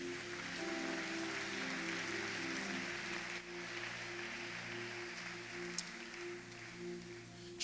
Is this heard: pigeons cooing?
no